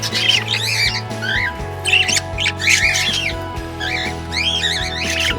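A pet bird squawks and whistles loudly in repeated bursts, close up, over a low steady hum.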